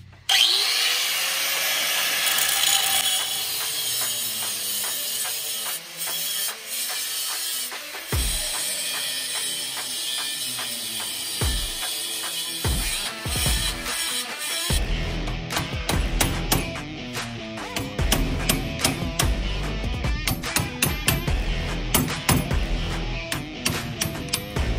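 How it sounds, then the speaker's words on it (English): An angle grinder with a cutoff wheel cuts through a steel drag link end on a 2005-or-later Super Duty Dana 60 axle, a loud whining drone that later breaks into choppy, stuttering grinding pulses. "Take a cutoff wheel, grinder, and get to cutting."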